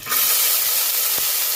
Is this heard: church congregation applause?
no